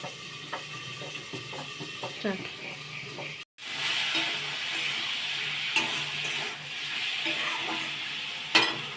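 Potatoes frying in a pan, a close, steady sizzle with scattered spoon scrapes and light clinks, cut by a brief silent gap before the hiss swells again.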